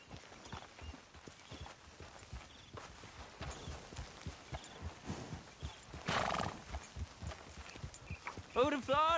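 In the video game Red Dead Redemption 2, a horse walks with a steady clip-clop of hooves. A brief rustle of movement cuts in partway through, and a clear neigh rises near the end.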